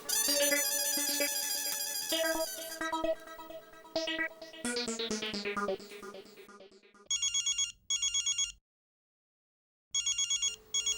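A phone ringtone plays, first as a melodic tune, then as repeated electronic ringing bursts separated by a short silence.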